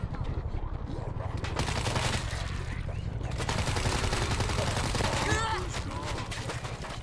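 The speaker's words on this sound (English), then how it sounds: "machine gun" Machine gun fire rattles in rapid bursts in the World War Z zombie shooter, set in a New York escape mission. It runs steadily and fairly loud through the whole stretch, with voices talking underneath at times.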